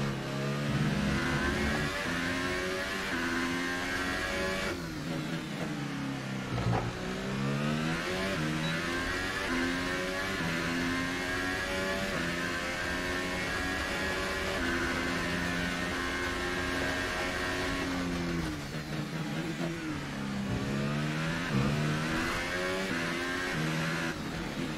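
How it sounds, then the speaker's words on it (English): A McLaren Formula 1 car engine in the racing game F1 2018 at the Azerbaijan Grand Prix, screaming loudly and continuously with repeated upshifts and brief drops on downshifts, alone with no talk. "Is it just me, or does this engine sound very weird?"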